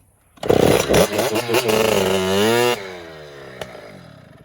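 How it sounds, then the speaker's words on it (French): A motorcycle engine starts with a burst of loud cranking and firing, then holds a rough, revving roar for about two seconds before dropping away to a faint idle. "je vais prendre la moto, je vais la démarrer"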